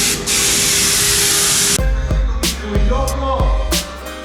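A can of silicone spray giving a long steady hiss up close, then short sputtering bursts between knocks and clatter as the nearly empty can falters.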